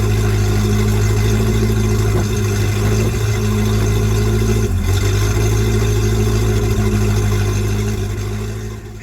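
Boat engine running steadily after a wiring harness installation, a loud, close, continuous low mechanical drone with a constant hum and no talking, easing slightly in level near the end.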